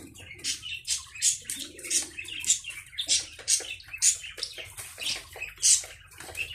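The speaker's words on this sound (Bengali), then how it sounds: "20টা পুরুষ কোয়েল পাখি আছে" A group of twenty male quails kept for sale give sharp, repeated chirping calls, close and moderately loud, in a quick uneven rhythm of bursts about twice a second over a soft low hum, with no talking.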